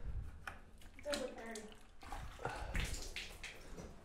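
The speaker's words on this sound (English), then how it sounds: "And I'll get some water." Water is run and splashed while being fetched for polishing an epoxy countertop, a faint, uneven burble. A person talks over it.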